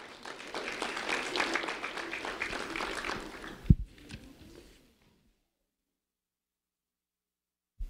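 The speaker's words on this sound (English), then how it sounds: "a round of applause for Nevaeh Johnson, please." An audience at a sheriff's office award ceremony for a fifth grade student applauds in a moderate burst of clapping for about four seconds, then fades out to silence.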